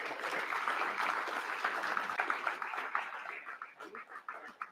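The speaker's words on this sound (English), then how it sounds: "Round of applause." A small crowd claps at a fishing tournament awards ceremony, a fairly faint, steady patter of applause that thins out into scattered claps toward the end.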